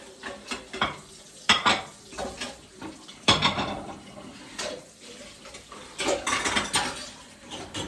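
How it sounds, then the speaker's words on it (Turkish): Breakfast dishes clink and clatter in irregular bursts as they are put away, with sharp knocks of plates and cutlery being handled and set down, steady kitchen background throughout. "Bulaşıkları kahvaltı bulaşıkları yerleştireyim."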